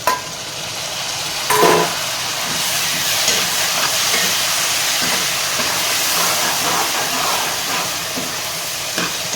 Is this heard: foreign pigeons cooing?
no